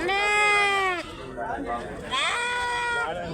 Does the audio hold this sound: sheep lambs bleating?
yes